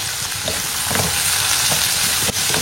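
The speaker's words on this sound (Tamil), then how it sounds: "தக்காளி எல்லாத்தையும் போட்டுக்கலாம். இந்த கிழங்குக்கு தேவையான உப்பையும் போட்டுக்கலாம்." Tomatoes, curry leaves, green chillies and salt are stirred into a potato masala frying in a pan, making a loud, continuous sizzle with scraping stirring close by.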